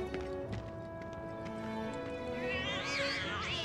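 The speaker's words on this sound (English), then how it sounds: "Kitties!" Cats meowing in the video game Final Fantasy VII Remake, several short high mews over steady background game music, one drawn-out wavering meow at the end.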